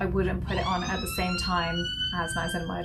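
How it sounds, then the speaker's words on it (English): A wailing ambulance siren sounds steadily in the background as it passes while someone talks over it. "that's the siren, that's an ambulance going past."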